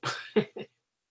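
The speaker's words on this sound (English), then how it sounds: "And I have a coughing fit and just gotta go." A person's coughing fit: three short, harsh coughs close to the microphone, the first longest, then silence.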